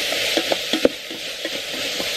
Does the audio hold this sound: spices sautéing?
yes